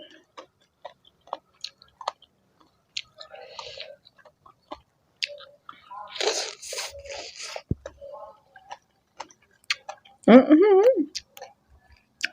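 Crunchy chewing and crisp bites of spicy pounded salad with large field snails sound close to the mic in scattered bursts, with a voice speaking briefly near the end.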